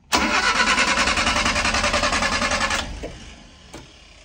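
A Mazda E1600 Bongo ute's starter cranks the engine in a fast, loud, even rhythmic whir for nearly three seconds, then cuts off without the engine catching, leaving a faint quiet tail with one small clunk.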